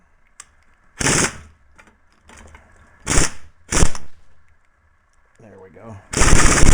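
An impact gun hammers at a corroded nut on a Willys Jeep differential in a workshop, firing four loud, close, rattling bursts of a second or less with short pauses between, and someone speaks briefly.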